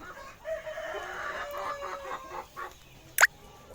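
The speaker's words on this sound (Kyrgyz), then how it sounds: "Барковская Варвит деген тооктор." Borkovskaya Barvistaya chickens cluck softly and steadily in the background, with one brief sharp call cutting through near the end.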